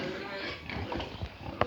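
Pigs on a pig farm in Nepal give short, low grunts and snorts at close range, mixed with voices talking nearby.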